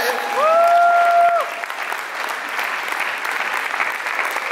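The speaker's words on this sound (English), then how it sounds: "Give the Lord a great clap offering" Church congregation applauding at a conference night service, a steady broadband clapping wash that holds throughout, with a short sung or sustained vocal tone rising over it near the start.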